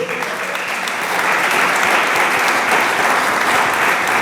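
A church congregation claps together in sustained, dense applause, loud and even, swelling slightly after the first second and holding steady to the end.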